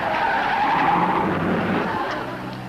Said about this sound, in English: Oh, look, here comes the car.